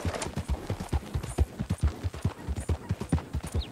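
Horse hooves clip-clop steadily in Red Dead Online, a close, regular rhythmic patter of strikes continuing throughout with no talk over it.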